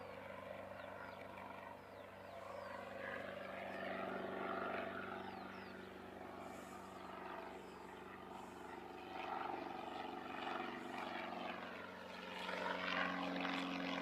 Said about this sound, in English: next main runway departure will be 5356, heading to Wellington